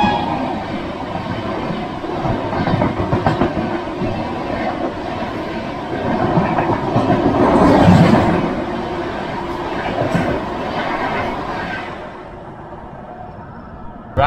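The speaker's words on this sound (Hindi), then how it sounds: "अभी अपनी ट्रेन 55 मिनट लेट चल रही है" The Darbhanga Humsafar Express runs along the tracks, a loud continuous rumble with rattling carriages heard from inside, swelling in the middle before easing toward the end.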